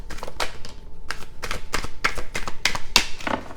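Tarot cards being shuffled by hand, a series of quick, crisp riffling bursts in uneven rhythm, close and clear with no talk over them.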